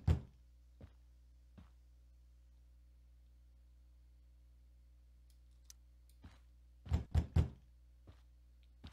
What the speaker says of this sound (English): How about you knock?